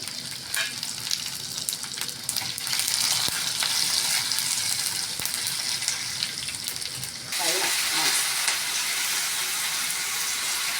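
Cumin, garlic, dried red chillies and curry leaves sizzle hard in hot oil in a pan for a sesame and drumstick-leaf chutney, a loud continuous crackle that grows fiercer partway through.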